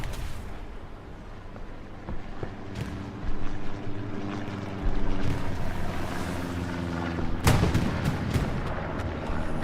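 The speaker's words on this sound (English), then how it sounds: "Love those random rockets." Rocket artillery landing in the World War II shooter Hell Let Loose, with deep booming blasts and rumbling explosions building over a constant low engine drone, one heavy impact standing out near the end.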